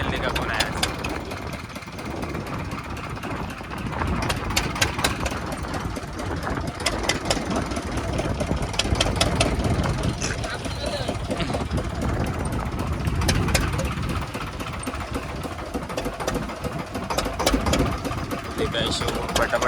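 A fishing boat's engine runs steadily out on the water, a continuous rough mid-low drone with rattling ticks, heard throughout under someone talking.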